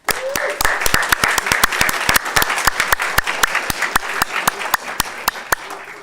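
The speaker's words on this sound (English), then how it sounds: "a big round of applause for all of you for what you do for kids and teachers and schools every single day of the year" Applause from a room of Nevada education department staff at a legislative debrief, dense rapid clapping that is sharp and steady, with individual claps standing out throughout.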